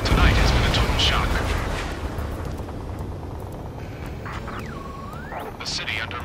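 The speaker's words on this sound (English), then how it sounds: "Gunfire and the roar of jets echoing through the streets." Ace Combat 7 combat in a city under martial law: dull gunfire booms and a low rumbling roar, with a jet whooshing past partway through, all at moderate loudness.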